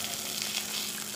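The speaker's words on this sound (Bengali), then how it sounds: "এখন আমি মাছগুলো ভেজে নিচ্ছি।" Fish pieces frying in oil in a pan, giving a continuous dense crackling sizzle close up, with no voices.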